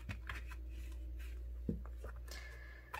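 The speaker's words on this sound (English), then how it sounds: "I'm just going to shuffle them." Tarot cards being shuffled by hand give soft, quiet riffling and sliding sounds with a brief louder flick midway, close to the microphone in a quiet room.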